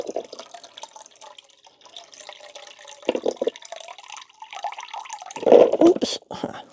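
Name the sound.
water poured into a pot of anemone corms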